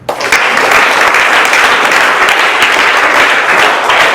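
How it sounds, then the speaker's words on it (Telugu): Loud, dense audience applause fills the room at a ceremony honouring a hostel warden, a steady wash of many hands clapping close by for several seconds with no speech over it. "కానీ క్లాప్స్ ఇవ్వండి."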